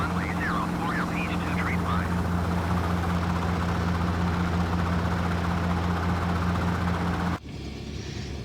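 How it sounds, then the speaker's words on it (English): Robinson R44 helicopter landing on a runway, heard from inside as a loud, steady rotor and engine drone with a constant low hum, cutting off abruptly near the end. "one of my prettier flights in this Robinson R-44 helicopter"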